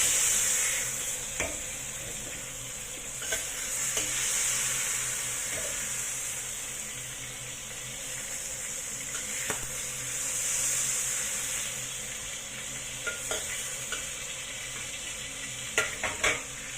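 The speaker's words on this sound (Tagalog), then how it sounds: "i-fry na natin yung ating pork" Pork frying in a pan, a continuous close sizzle with intermittent stirring scrapes and light utensil knocks over about seventeen seconds, without speech.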